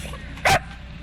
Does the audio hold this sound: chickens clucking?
no